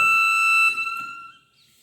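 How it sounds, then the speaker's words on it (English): An electronic buzzer in a three-phase induction motor single-phasing protection trip circuit sounds a loud, steady high-pitched tone for under a second, then cuts off and fades into quiet. "We have to accept this electronic buzzer, then we can reset by using this reset button."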